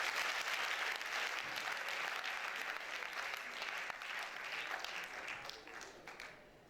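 Audience applause at an International Day of the Girl Child event, a broad sustained roar of many clapping hands heard from a distance, slowly fading toward the end.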